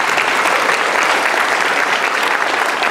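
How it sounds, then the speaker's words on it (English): Steady, dense applause from an audience, loud and continuous throughout with no pauses. "A big clap for Jordan's presentation"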